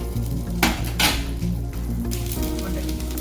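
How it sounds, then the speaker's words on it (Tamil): Grated coconut sautés in oil in a pan for a Kerala-style chickpea curry, with a soft sizzle beneath loud clattering bursts as a metal spoon scrapes and stirs against the pan, all over a steady low hum. "தேங்காய் நல்லா வதங்கட்டும்."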